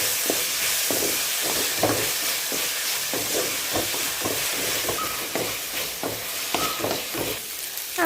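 Sliced onions and a green chilli sautéing in a pan for a spicy chickpea masala, with a steady sizzle and repeated stirring scrapes, close and alone.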